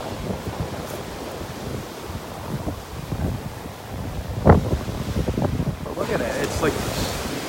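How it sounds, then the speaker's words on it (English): Onshore wind on a beach, blustering across the microphone with steady rumbling gusts and surf roar; one stronger gust surges midway, and faint voices sit underneath. "It's more of a breeze, it's a wind."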